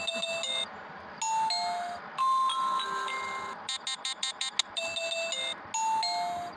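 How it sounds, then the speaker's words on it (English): AUE Bell J9 battery-powered doorbell camera chime plays a bright electronic melody of ringing tones, with a quick run of short repeated notes in the middle, clear and close with no talking. "That's the doorbell"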